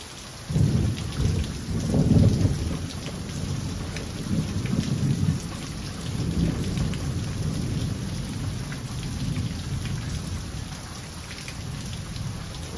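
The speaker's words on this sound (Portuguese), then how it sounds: "aproveitar a chuvinha e os relâmpagos" Rain pours steadily during a thunderstorm, with deep rolling rumbles of thunder swelling and fading beneath the constant hiss of downpour, loud and close with no voices.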